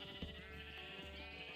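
A sheep in Minecraft bleats in a long, wavering nasal cry, close and clear, filling the short moment alone.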